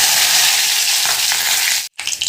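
Cumin seeds and curry leaves hitting hot oil after mustard seeds, a loud, close, continuous sizzle that cuts off sharply near the end, then sputters again briefly.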